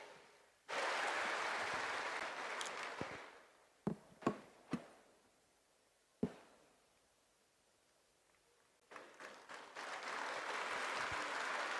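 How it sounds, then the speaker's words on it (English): A crowd at a spirituality festival claps for itself: a burst of applause, then a few sharp isolated knocks or claps in near silence, before clapping swells again toward the end. "And clap for yourselves."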